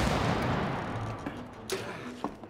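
Gunfire in the co-op video game It Takes Two, a dense burst of shots and impacts in the first seconds that thins into a few sharper bangs near the end, mixed with game sound effects.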